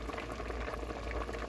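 Cooked pasta water pours out steadily in a continuous rushing, bubbling stream, close and moderately loud, with no voices over it.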